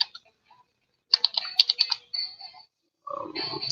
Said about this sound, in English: I was just typing there before I highlighted yours, Malcolm.